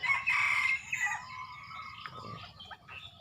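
A jungle fowl rooster crows once in a morning countryside setting, fairly close and clear, followed by fainter bird calls against a quiet background.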